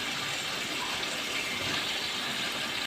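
Cut potatoes tipped into hot ghee in a pan for spicy aloo ki katli, giving a steady, dense sizzle and hiss that holds evenly throughout, with no talking.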